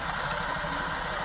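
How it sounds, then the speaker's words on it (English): A car's exhaust rattles as the engine idles, a steady close low rumble with a buzzing vibration and no break. "Exhaust is rattling."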